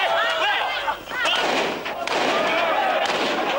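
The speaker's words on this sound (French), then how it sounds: "des coups de feu" Gunshots and heavy booms sound outside a stadium among dense crowd noise, with a narrating voice over the top and a tense, electric atmosphere.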